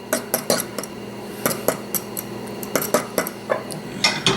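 A utensil spreads butter around a hot pan before scrambled eggs go in, making a quick run of metallic clinks and scrapes, close and fairly crisp.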